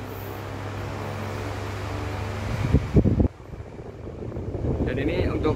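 A Toshiba F-ASA50ID electric fan runs on its first speed setting, giving a steady broadband whoosh throughout with a brief clunk partway, while a person talks over it.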